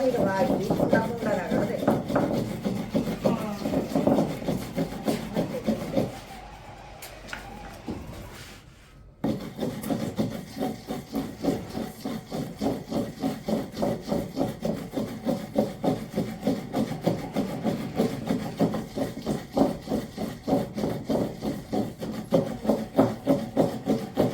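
Chili chutney being pounded by hand, with steady rhythmic thuds and grinding scrapes of pestle against stone or wood, a brief pause midway, and voices talking over the pounding.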